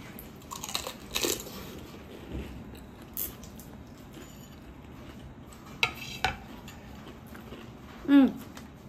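Someone bites into crunchy fuchka (pani puri), making a few scattered, fairly quiet crunches with occasional clinks of dishes in between.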